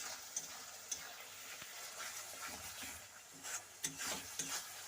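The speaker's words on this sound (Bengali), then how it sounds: "তো মশলাটা আরও কিছুক্ষণ কষাতে হবে, এখনও তেলটা ছাড়েনি" Masala for a magur fish and potato curry sautés and is stirred in a pan: a steady close sizzle broken by irregular scraping and tapping strokes of the spoon, with no voices.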